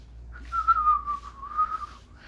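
A person whistles a wavering, mid-pitched tune for about two seconds, clear and close, with no talking over it.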